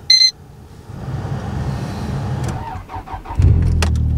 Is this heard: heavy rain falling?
no